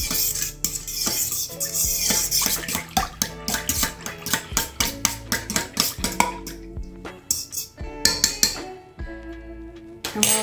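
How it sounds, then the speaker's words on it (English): A metal spoon stirring sugar into a yeast mixture in a bowl, repeated close clinking and scraping strokes in an uneven rhythm, fairly loud and continuous throughout. "then you're just gonna stir it up a little bit"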